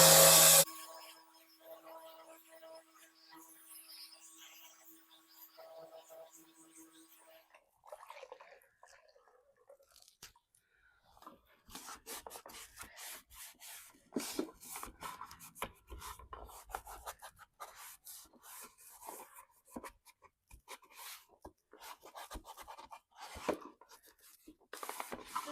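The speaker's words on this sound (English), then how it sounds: "I want to sand this just a little bit." Thin, lightweight wood on a thrift-store furniture piece is sanded by hand in close, rapid rasping strokes, preceded by a quieter stretch of faint handling.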